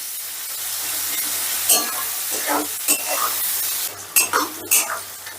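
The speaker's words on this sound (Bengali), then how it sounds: "এবার পেঁয়াজটাও হালকা করে ভেজে নেব" Onions fry lightly in oil for a pangas fish curry, giving a continuous hissing sizzle with a low hum beneath. Clattering stirring knocks grow busier toward the end.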